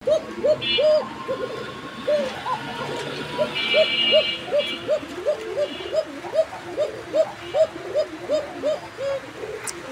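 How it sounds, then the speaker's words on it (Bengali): A fancy pigeon repeats a thin, flute-like coo in a steady run of short calls, close and clear, with faint background noise. "এটা কোকার ডাকটা আপনারা দেখতে পাচ্ছেন, খুব সুন্দর, একদম চিকন সুরে বাঁশির মতো সুর তুলে ডাকে"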